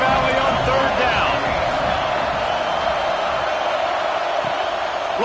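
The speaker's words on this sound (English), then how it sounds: "Here comes the noise from this big crowd in Happy Valley on 3rd down." A big stadium crowd roars in Happy Valley on third down in the College Football 26 video game, a dense, steady wash of noise that holds loud and unbroken throughout.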